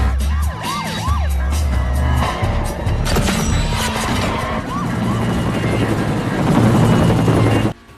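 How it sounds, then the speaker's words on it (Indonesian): A helicopter hovers over a car chase in a Fast and Furious action film, its rotor drone blended with sirens, revving engines and tire noise in a loud, busy mix. "now let's get the chopper over them"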